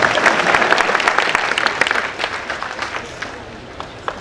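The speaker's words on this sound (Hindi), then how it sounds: "या एक दो ताली मत मारो या तो मारो मत" Audience at a book launch in Surat claps and cheers in a dense, steady burst of applause that thins out toward the end.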